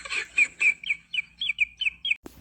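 Chickens cluck in a quick series of about ten short, sharp calls, fairly close and alone, cut off abruptly by a brief thump at the end.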